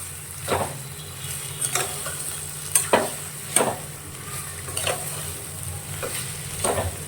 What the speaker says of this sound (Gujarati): આને છે ને 4 થી 5 મિનિટ માટે તેલમાં જ સાતળવા દેશું